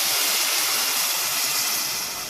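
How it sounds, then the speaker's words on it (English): Water poured into a hot pan of toasted bulgur gives a steady, close broadband steam hiss that stays loud for the whole moment and eases off slightly at the end. "So then we're gonna add our water. It's gonna steam."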